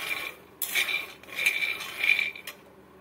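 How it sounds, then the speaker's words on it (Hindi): Peanuts are stirred while roasting in a pan over low to medium flame, giving repeated scraping, rattling bursts of nuts and utensil against metal with short pauses between strokes. "5 से 6 मिनट के लिए इसे हमें कंटिन्यू चलाते रहना है।"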